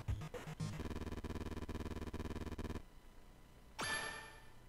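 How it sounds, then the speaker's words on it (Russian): Rapid rhythmic buzzing of a phone vibrating near Mettaton in Undertale, a dense repeating pulse for about two seconds, followed by a rising swoosh-like game sound after a short pause. "Телефон возле метатона вибрирует."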